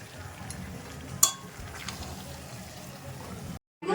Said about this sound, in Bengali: আর এখানে আমাদের চিকেন কষা হবে, তো চিকেন কষানোটা চলছে।